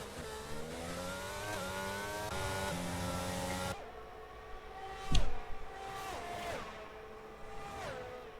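Open-wheel race cars battle closely on track at the Miami Grand Prix, several engines screaming together in rising and falling gear-change sweeps, with a sharp, loud burst as one car passes close by midway.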